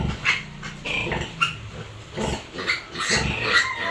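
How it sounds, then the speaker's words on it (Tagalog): A litter of about seven piglets suckling at a sow on a backyard pig farm, squealing, grunting and jostling in overlapping close bursts, with a low pig grunting underneath throughout. "Yan po't nagpapadidi ng mga biik. Kaipipitong peraso na nga lang po nag-aagawan pa."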